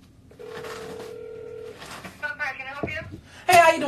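Phone call being placed back to someone in Louisiana: a steady electronic ring tone holds for over a second, followed by warbling tones and a brief voice as the line connects.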